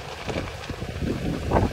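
Wind gusts roar and buffet the microphone outdoors during a fast-spreading brush fire, an uneven, rumbling rush that swells toward the end.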